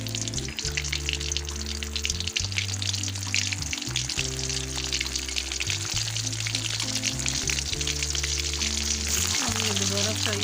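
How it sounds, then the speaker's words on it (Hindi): Half-fried fish sizzling again in hot ghee, a dense, steady crackling hiss close to the pan, while someone talks over it. "अब ये दोबारा फ्राई होगी।"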